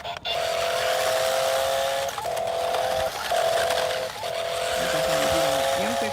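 A 1:12 scale remote control car drives nearby with a steady high electric motor whine that dips briefly a few times as it maneuvers, continuous and fairly loud throughout.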